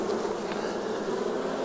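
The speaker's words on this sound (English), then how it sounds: "You can tell by the sound of the bees, they think the queen's gone." Queenless honey bees buzz densely in a hive, a continuous droning hum of many insects close by, with no voices.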